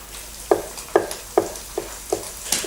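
Cèpes mushrooms frying in a hot pan, giving a soft sizzle with five or six regular stirring or tossing bursts about every half second, close and clear with no talk.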